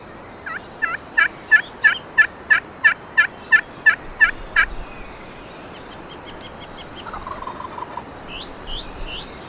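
A wild turkey gobbles in a turkey hunting video game, a rapid series of about a dozen rattling notes, fairly close and loud, followed by faint bird chirps in a quiet outdoor scene.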